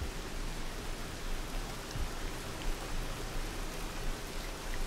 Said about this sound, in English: I think he's still scared of the rain